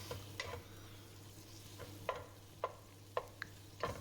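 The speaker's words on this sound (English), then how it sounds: "We're just going to cook it on medium heat until it gets nice and brown." Thinly sliced meat fries in oil over medium heat for nikujaga, a soft low sizzle broken by sharp utensil scrapes and taps as it is stirred, faint and close, with no talking.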